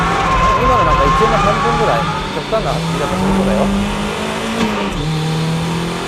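Drift car entering a corner under braking, with engine notes falling and wavering and brief tire chirps, a voice talking over the steady engine roar throughout.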